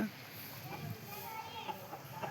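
A hen clucks softly nearby in short, scattered bursts over a low background hum, with faint voices mixed in.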